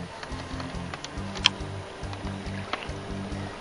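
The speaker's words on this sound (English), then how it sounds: "I'm at full power on my motor here" A canoe pushed along by an electric motor at full power on water, giving a steady low droning hum with water wash and a faint click, close by and without talk.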